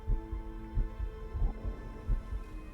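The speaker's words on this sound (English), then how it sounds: "They're both very stressed. I can hear their heartbeats." Two stressed characters' heartbeats in a Star Trek video game thump in a steady, deep, rhythmic pulse over a low droning hum, with no voices.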